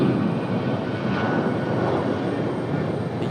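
A Boeing 737 jet rolls for takeoff on a runway at Raleigh-Durham International, giving a steady, broad engine roar that holds loud and constant throughout with no talking.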